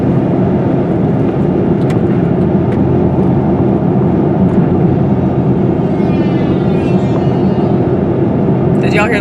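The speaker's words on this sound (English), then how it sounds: "That kind of sounded like a plane going down. But it was a truck, apparently." A truck rumbles past on a nearby street with a heavy, sustained roar that resembles a crashing plane, loud and steady throughout, with a voice speaking over it.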